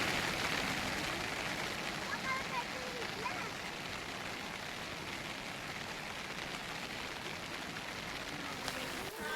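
Rain falls on a 1000-foot hilltop overlooking a Konkan village, a steady, even hiss of drops that continues throughout, with faint voices mixed in.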